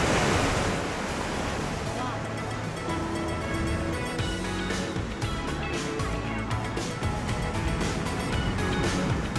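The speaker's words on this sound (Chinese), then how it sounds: "你看这个海浪" Sea waves wash steadily against the Cinque Terre coast, a loud, continuous roar of surf close by, with wind buffeting the microphone.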